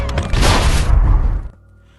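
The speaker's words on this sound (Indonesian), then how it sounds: "Brian langsung menyuruh Kim untuk membuat tanda lagi dengan meledakkan granat" A grenade detonates in an action film scene: a loud, close, broadband blast that roars for about a second and a half, then cuts off abruptly into quiet rumble.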